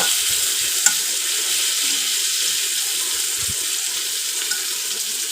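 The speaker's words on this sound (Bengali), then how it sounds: "দিয়ে ভালো করে আমি পেঁয়াজটাকে ভেজে নেব।" Onion frying in a wok with nigella seeds, a continuous bright sizzle up close with a couple of faint clicks of stirring, no voices.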